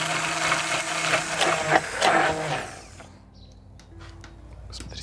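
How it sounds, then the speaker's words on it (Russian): An immersion blender whirs through raw egg yolks, mustard and lime juice to make mayonnaise, a loud buzzing churn for a few seconds that then cuts out, leaving a quiet pause with faint clicks. "И при помощи погружного блендера готовим майонез."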